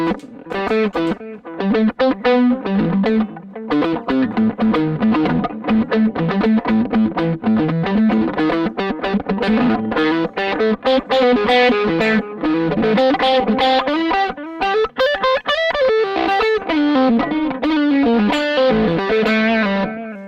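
Electric guitar through a delay effect, switched on a Boss ES-8 pedalboard, plays a flowing melodic line with repeating echoes trailing each note, a continuous effected tone throughout without any talking.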